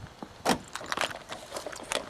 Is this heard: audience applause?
no